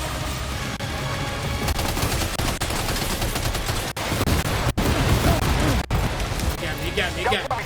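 Dense, continuous gunfire from a firefight in the video game Death Stranding 2, loud rapid shots layered over a rumbling battle din with sharp cracks standing out near the middle and end.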